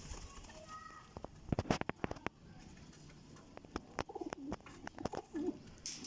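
Pigeons coo softly at a pigeon dealer's place in Jhelum, low rounded calls repeating amid scattered taps, flutters and light rustling, all fairly faint and with no talking.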